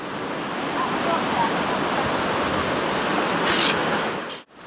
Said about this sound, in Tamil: அப்படியே அலை பார்த்தீங்கன்னா ரொம்ப ஸ்பீடாக வராதிங்க, ஓரளவுக்கு நார்மலாக தான் இருக்கு அலை